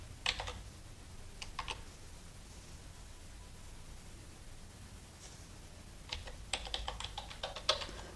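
A computer keyboard is typed on in short quiet bursts, a few quick keystrokes near the start and a longer run toward the end, over faint background hiss.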